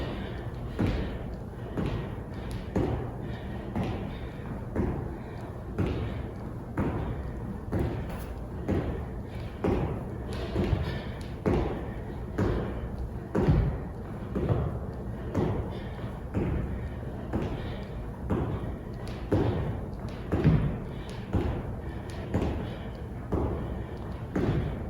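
Feet land on a floor again and again during continuous jumping exercises, a steady rhythm of dull thuds over about twenty-five seconds, with a person talking at times.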